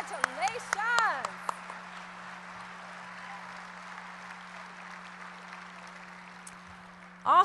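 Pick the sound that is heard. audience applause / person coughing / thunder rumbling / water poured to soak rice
audience applause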